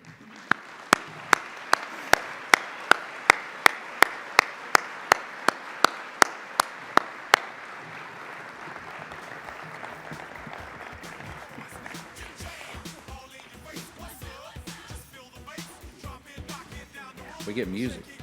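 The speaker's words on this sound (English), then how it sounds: "as we give them a big round of" A crowd applauds steadily at an awards closing ceremony, with a few sharp, evenly spaced claps standing out at first, then the clapping continues and fades into murmuring voices.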